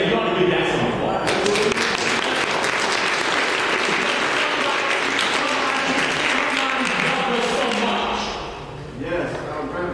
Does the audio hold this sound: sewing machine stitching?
no